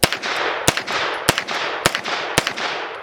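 A JR Carbine 9mm take-down pistol fires five sharp, loud shots at roughly even half-second intervals, each crack followed by a brief ringing echo.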